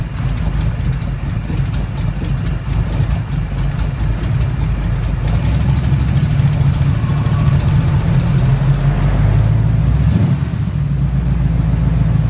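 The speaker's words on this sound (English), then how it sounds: "I have it idled down and see what's happening, and the alternator's not spinning fast enough to charge the battery" A GM vehicle's engine idles low and steady, a loud, close, constant rumble running throughout with little change, with the alternator turning too slowly to charge the battery.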